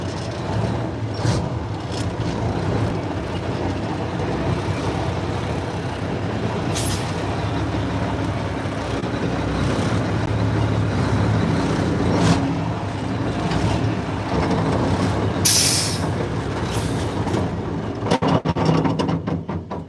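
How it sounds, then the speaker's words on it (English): A loud Mack R600 truck engine rumbles steadily at close range, with a rattle from between the engine and gearbox and a couple of short hissing bursts. "she's got a bit of a rattle between the engine and the gearbox there somewhere"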